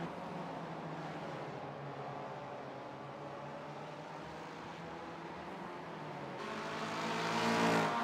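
Race cars in a sim racing game overtaking on the Mosport track, with a Mustang among them: a steady engine drone throughout that swells and revs louder near the end as cars pass close by.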